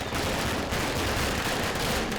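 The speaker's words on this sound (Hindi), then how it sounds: "कितने पटाखे फोड़ रहे हैं, कितना शोर कर रहे हैं यार" Firecrackers being set off outside, a dense, continuous barrage of crackling bangs and pops that overlap with no break for the whole stretch, loud and rough.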